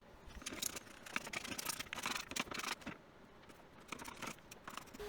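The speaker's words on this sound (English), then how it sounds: "Now we got to set up to scrape this sucker down and get all the glue off." Glue being scraped off a wooden cutting board by hand, heard up close but quietly: a series of dry, rasping strokes in irregular bursts.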